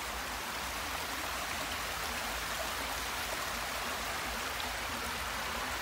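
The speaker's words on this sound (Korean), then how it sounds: "물소리도 상당히 크게 들려요." Steady, dense rush of flowing water fills the whole clip, a continuous broadband hiss like a nearby stream with no pauses or voices.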